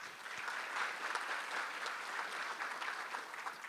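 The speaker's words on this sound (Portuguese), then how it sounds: "uma salva de palmas para o Rodrigo." Audience at an agricultural users' meeting claps for a presenter, a continuous, evenly dense round of applause from many hands lasting the whole stretch, fairly close and without speech on top.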